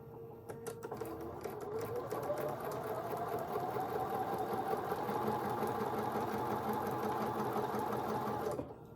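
A sewing machine stitches an appliqué piece on a small wall-hanging quilt, running steadily for several seconds with a close, even mechanical whir and a slight rise in pitch as it speeds up.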